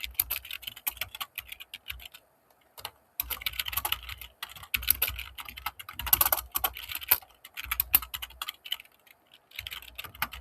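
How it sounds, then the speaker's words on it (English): Fast, uneven bursts of computer keyboard typing while writing code, crisp clicks close by in irregular runs with short pauses between them. "first things first, I'm going to write down the basic code."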